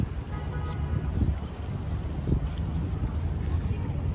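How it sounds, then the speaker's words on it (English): A breezy wind blows by an outdoor pool, rushing steadily and buffeting the microphone with low, continuous gusts, under a voice. "Yeah, it's breezy."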